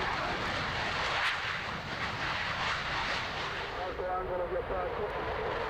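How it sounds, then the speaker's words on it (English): Panavia Tornado jet bomber landing with reverse thrust at an air show, a loud, steady roar of jet engines with rumbling turbulence, close by, with no talk. "Tornado doesn't need a braking parachute because, unlike most jet bombers, it has reverse thrust."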